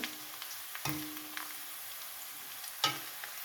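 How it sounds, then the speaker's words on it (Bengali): Onions gently frying to light brown in a pan for a potato and fenugreek greens dish, a quiet steady sizzle with a couple of sharper spoon knocks against the pan, heard up close without talk. "হালকা বাদামি কালার করে ভেজে নেব পেঁয়াজটা"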